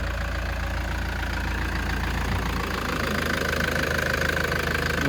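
A Toyota Land Cruiser Prado 150 engine runs with a deep, rough, tractor-like rumble and steady knocking pulse, loud and close, with no talk over it.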